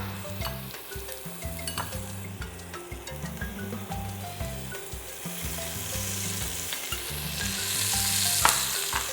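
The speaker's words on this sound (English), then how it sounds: "So we're going to saute our seasoning ingredients first." Onion, thyme and seasoning ingredients sauté in a hot pan, giving a steady close sizzle with repeated stirring scrapes throughout, no talking.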